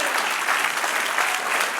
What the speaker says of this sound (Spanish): Denle un aplauso al que reina y vive por los siglos.